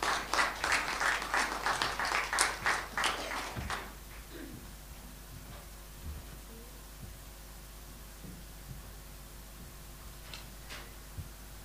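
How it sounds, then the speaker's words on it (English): Audience applause at an evening seminar talk, a burst of clapping for the speaker arriving at the podium that lasts about four seconds, then fades into a quiet room with faint shuffles. "a big round of applause for our speaker tonight"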